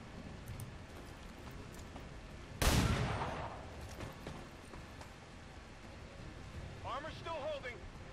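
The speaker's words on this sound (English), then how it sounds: "And fire pistol." A single sharp pistol shot fires in the video game XCOM 2, loud and close, with a decaying tail, over background game ambience; a faint voice-like sound is heard later.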